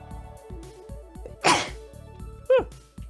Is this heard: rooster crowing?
no